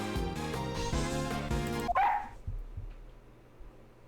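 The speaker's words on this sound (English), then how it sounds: "Oh, Missiles is growling." Missiles, a puppy in the game Ace Investigations 2, gives a short dog vocalization just after game music cuts out, followed by a quiet, faint low rumble.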